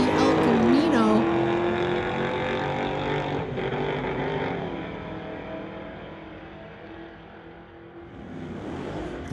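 Camaro and a 1986 Chevy El Camino run side by side down a drag strip, engines roaring loudly and fading as they pull away, while an announcer talks over the noise throughout.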